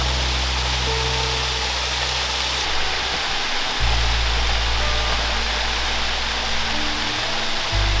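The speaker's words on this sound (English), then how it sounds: "It's waterfall number 7, and it's actually the tallest waterfall on the trail at 178 feet" Double Falls, a 178-foot waterfall in Silver Falls State Park, Oregon, gives a constant, dense roar of falling water that stays steady and loud from start to finish with no voices.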